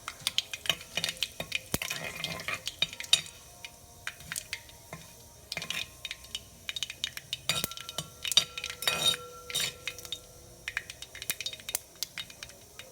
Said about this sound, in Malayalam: സോ ഇപ്പോൾ കടുക് പൊട്ടിക്കഴിഞ്ഞു.